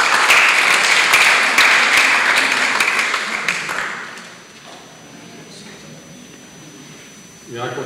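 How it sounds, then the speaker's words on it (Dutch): Audience applause in a church during a poetry event, a loud burst of clapping that fades out over about four seconds, leaving a quiet room with faint rustling. "Mag ik een applaus?"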